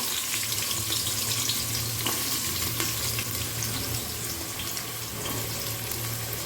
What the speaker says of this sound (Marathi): हा कांदा लाल होईपर्यंत छान आता आपल्याला असा परतून घ्यायचा आहे कांदा